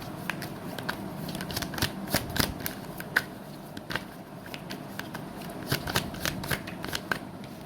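Tarot cards are shuffled for a reading with soft, close riffling and flicking, arriving in irregular bursts of crisp card snaps over quiet room tone.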